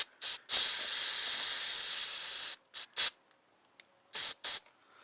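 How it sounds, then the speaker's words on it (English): Aerosol carburetor cleaner hisses in several bursts while cleaning a Tecumseh engine carburetor: a long continuous blast of about two seconds, then short quick spurts, close and fairly loud. "Just making sure that when I spray down,"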